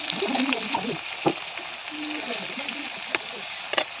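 Pumpkin slices fry in oil on a gas stove, giving a moderate, continuous sizzle with a few sharp clicks and clatters of utensils, while a voice talks over it.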